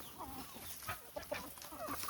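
Several native (desi) village chickens cluck softly nearby, short irregular calls scattered over quiet farmyard ambience.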